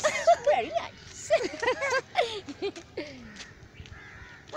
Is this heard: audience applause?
no